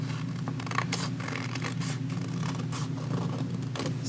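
Scissors cut through folded paper along drawn lines for a kindergarten polar bear craft, producing a quick series of close, crisp snips at an uneven rhythm over a quiet room hum.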